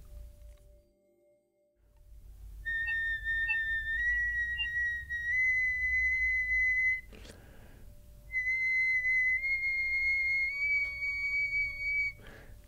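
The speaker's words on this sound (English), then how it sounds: "This is your first whistle tone. Then, step by step, you should go up." Flute or piccolo whistle tones in two thin, pure high phrases, each stepping upward pitch by pitch and then held, separated by short breaths and near silence.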